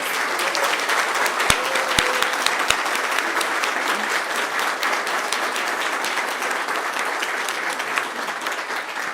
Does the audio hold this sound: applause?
yes